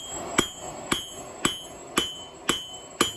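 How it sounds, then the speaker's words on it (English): A ball peen hammer strikes metal butterfly wings while texturing a forged garden ornament: six sharp, ringing blows at an even, unhurried pace, close and distinct against quiet background. "we're going to use the ball peen hammer to get the texture that we want in this."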